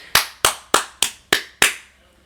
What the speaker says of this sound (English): I just heard clapping on there.